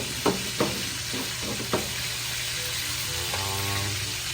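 Chicken and mushrooms fry in a pan, giving a steady close sizzle with a few sharp knocks and scrapes of a utensil, then a brief rattling stir near the end.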